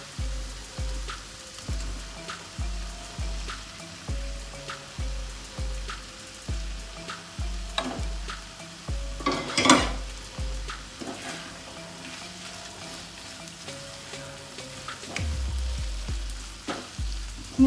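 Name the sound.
cooked bitter gourd added to pan and frying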